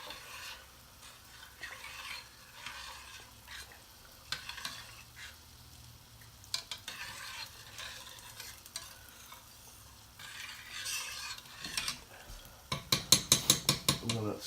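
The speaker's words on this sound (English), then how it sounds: "I'm just gonna stir it in." Tom yum soup is stirred in a pot with a soft, quiet bubbling background broken by intermittent scrapes and clinks of a utensil, ending in a brisk burst of rapid rhythmic taps against the pot.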